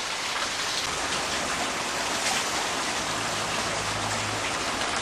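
Water from the delivery pipe of a Cornish pulser pump pours and splashes in a steady broadband rush, close and continuous, with no talking.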